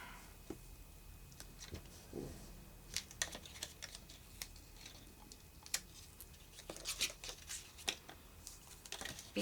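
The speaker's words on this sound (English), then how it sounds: "I think I'm just going to tape them down." Tape being pulled and pressed down over cardboard pieces of a handmade box produces soft, irregular crackles and taps, quiet and close, with scattered sharper clicks.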